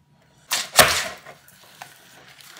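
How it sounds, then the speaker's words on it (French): A small paper bookmark being cut, two quick, crisp snipping bursts close together near the start, then faint rustles and a lighter snip in a quiet room. "Et donc je vais couper mon petit marque-page ici"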